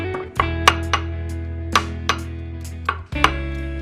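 Roasted eggplant is mashed for baingan bharta with a run of sharp, irregular knocks and thuds from the utensil. A steady low hum continues in the background.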